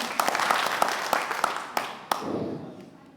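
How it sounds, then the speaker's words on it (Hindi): Loud, steady audience applause fills a hall at a motivational talk, dense clapping that swells and then thins out toward the end. "एक बार मनीष सर के लिए जोरदार ताली"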